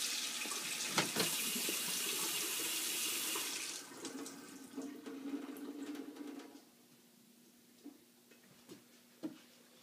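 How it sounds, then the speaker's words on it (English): Cold water runs hard from a sink faucet opened all the way, a loud steady rush for several seconds that drops to a thin trickle with scattered drips and clinks once the valve is shut. "by turning my cold water on all the way"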